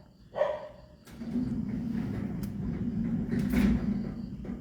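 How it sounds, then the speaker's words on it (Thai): A remote-controlled gate closes with a steady low mechanical rumble that runs for several seconds, preceded by a single short dog bark. "เราก็ปิดประตูรีโมท"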